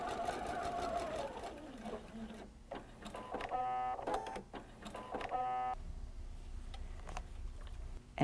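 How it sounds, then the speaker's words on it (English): A domestic sewing machine stitching a serged, encased seam runs in short rapid bursts of needle clatter with pauses between, close and fairly quiet, with soft handling noises in the gaps. "Now, I press as I sew, so I want to set my stitches"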